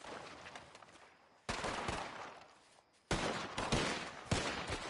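Gunfire from a shootout in the video game Red Dead Redemption 2: bursts of loud, sharp shots in clustered volleys, a quieter stretch of scattered fire, then two heavy barrages with distinct cracks, no talking.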